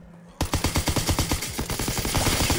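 Rapid automatic gunfire in the video game Call of Duty: WWII erupts suddenly and keeps up a fast, loud, steady rhythm of shots, close and alone.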